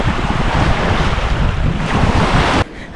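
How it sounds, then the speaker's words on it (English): Sea water and waves washing onto the beach at Whitstable, a loud continuous surf roar with strong wind buffeting the microphone, no voices. "I'm just letting you enjoy the sound of the water for a moment."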